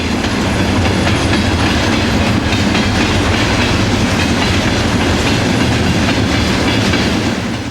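A train rumbles past at close range, loud and continuous, with a steady clatter of wheels on the rails throughout.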